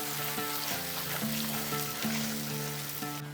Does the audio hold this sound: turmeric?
yes